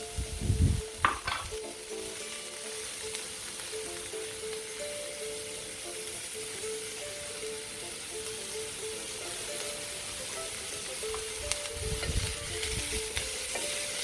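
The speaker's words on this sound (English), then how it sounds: "our onions are frying away" Soft, steady sizzle of onions frying in a pan, with a couple of louder stirring scrapes near the start and end.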